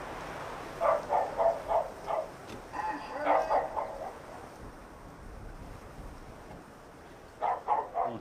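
A dog barks in a flat upstairs, heard through the ceiling as a few muffled bursts, one cluster early on and another near the end, faint against quiet room tone.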